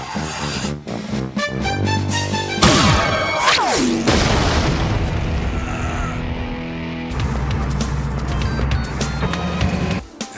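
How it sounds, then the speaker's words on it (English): Fireworks in a cartoon burst in a dense, loud barrage of booms and crackles layered with music, continuing through most of the stretch with a brief lull before another volley. "Let's celebrate our teamwork with some fireworks."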